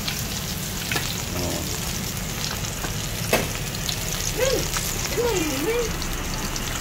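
Food fries steadily in a pan with a constant hiss and crackle throughout, while a voice speaks softly and briefly over the sizzle.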